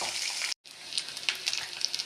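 Chopped large onions sizzle and fry in a hot pan, a bright steady crackle briefly cut to silence before resuming with scattered pops and stirring scrapes.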